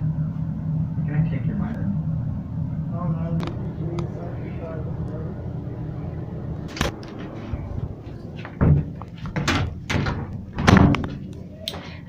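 A stuck bathroom door is pushed and thumped, giving several sharp knocks and rattling bangs in the second half, heard close and loud over a room rumble, with people talking before the impacts.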